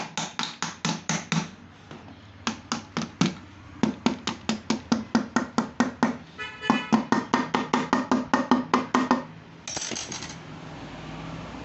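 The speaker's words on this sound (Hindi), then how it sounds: "ये जो आरएस कवर है उसको रबर हैमर से हम थोड़ा टैप कर लेंगे" Rubber hammer tapping the RS cover of a Bajaj Platina / XCD 125 motorcycle engine during a rebuild, a long run of quick, sharp, evenly spaced taps up close, with brief pauses and no talk.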